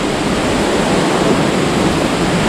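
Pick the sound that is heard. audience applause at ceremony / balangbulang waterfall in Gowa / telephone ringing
balangbulang waterfall in Gowa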